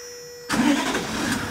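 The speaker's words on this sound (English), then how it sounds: "We've got the truck on idle." Toyota LandCruiser LC79 truck engine kicks in after a quiet moment and settles into a steady idle, a broad continuous rumble close by with no voices over it.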